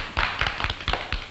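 A person clapping hands in applause during a radio play, a handful of sharp, close claps spaced irregularly over a second or so, with no other sound around them.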